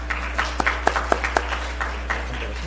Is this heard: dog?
no